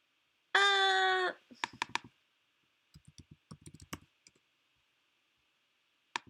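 Sparse clicking keystrokes on a computer keyboard come in short uneven bursts, preceded by a brief synthetic chime-like tone, in an otherwise quiet room.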